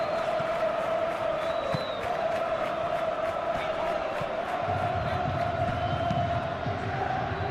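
A large stadium crowd in the football video game Football Life 26 keeps up a steady, loud roar of chanting and cheering that never lets up, with a low drum-like thumping joining in partway through.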